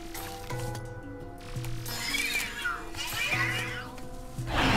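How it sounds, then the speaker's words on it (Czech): A scary cat creature meows and wails in Luigi's Mansion 3, its drawn-out cries rising over layered game music and ambience, loud and close throughout. "Děsivá kočka."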